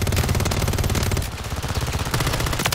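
Rapid automatic gunfire from a video game rattles loudly and almost continuously, with a brief lull in the middle before bursts resume, with no talking.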